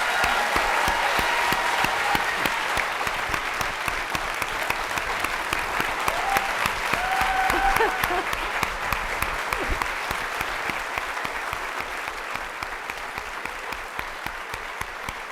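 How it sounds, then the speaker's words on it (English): Sustained applause from an audience at an evening event honoring author Colson Whitehead, a dense, even patter of many hands clapping for about fifteen seconds and slowly tapering off. "let's give him one more round of applause"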